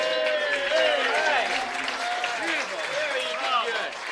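A baseball crowd at Recreation Park in Healdsburg applauding and cheering after singing Take Me Out to the Ball Game, a steady wash of clapping and shouts with whistling voices throughout.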